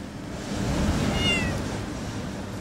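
A street cat in Istanbul gives a faint, drawn-out meow over a steady background hum of outdoor ambience, heard at a distance.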